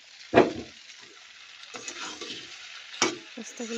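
Pasta and spices are stirred in a pan, heard as a few sharp spoon scrapes and knocks against the metal over a quiet, soft sizzle.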